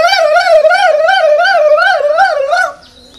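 A voice mimics a digital horn, a warbling, wavering electronic tone held for nearly three seconds, loud and close, then it cuts off.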